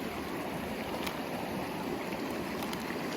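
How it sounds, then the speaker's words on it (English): Cold stream water running and lapping as bare feet dip in on an Appalachian Trail hike near waterfalls, a soft steady wash with a few faint splashes, no talking. "Dip our feet in the cold water."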